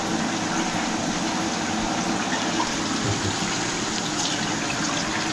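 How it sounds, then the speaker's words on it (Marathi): Water pours and gushes steadily as it drains off cooked goat brain (bheja) in a kitchen. The sound is close, loud and continuous, with no clear pauses. "त्या भेजाचं आपण पाणी काढून टाकायचं ना सर्व"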